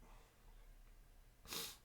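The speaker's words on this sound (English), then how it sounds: "The lingering sneeze." A person with a cold lets out a single short sneeze-like burst, close and fairly loud, near the end of an otherwise quiet stretch of soft room noise.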